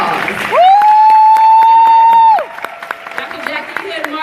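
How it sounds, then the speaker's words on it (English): Panel audience at a MegaFest session applauds the panelists, with a long sustained whoop or held vocal note rising over the scattered clapping for about two seconds before fading back to lighter claps. "let's give our panelists a wonderful round of applause."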